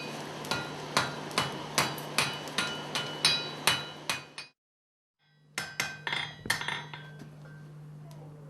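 A blacksmith's hammer strikes hot metal on the steel face of an anvil: a steady run of about nine ringing blows, a brief silence, then several more strikes that fade into a lingering hum.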